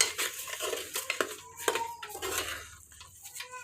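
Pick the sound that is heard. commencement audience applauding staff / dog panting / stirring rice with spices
stirring rice with spices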